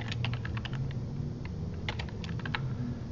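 Quick, light keystrokes on a computer keyboard while entering text in Illustrator: steady, close clicking with irregular spacing and no voices.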